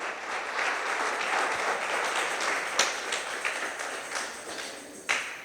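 Congregation applauding during a Spanish-language church sermon, steady moderate clapping throughout with a few sharper claps standing out near the end.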